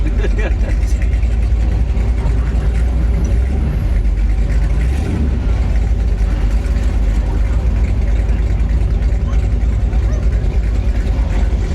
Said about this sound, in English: It's got some very loud exhaust on it.